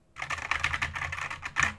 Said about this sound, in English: if I type away on this keyboard